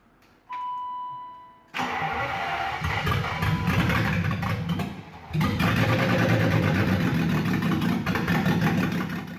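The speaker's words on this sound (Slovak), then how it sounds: "Máme dokonca natočený záber, ako motor v tomto aute štartuje" A Shelby Cobra V8 engine cranks and catches, then revs loudly and settles into a steady, rough idle close by, with a brief dip before revving up again.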